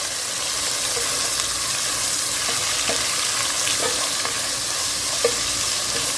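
Onions with ginger and garlic half-frying in a pan for an Arabic chicken masala, giving a steady, close sizzle with occasional soft stirring scrapes and pops throughout, no voices.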